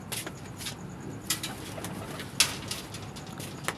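Pigeons coo softly close by, broken by a few short bursts of fluttering wings as a bird is let go.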